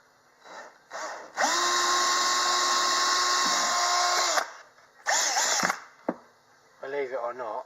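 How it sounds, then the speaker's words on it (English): A power drill bores a pilot hole into a welding mask, a loud whine that runs steadily for about three seconds and then returns in a shorter burst, set between brief moments of talk. "I'm going to drill a pilot hole, and then I'll drill it out bigger."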